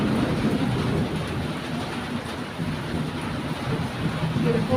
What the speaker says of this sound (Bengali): এই জল পড়ছে।